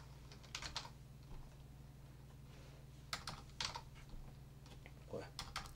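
Typing on a computer keyboard, faint scattered clusters of key clicks with short gaps, over a low steady hum.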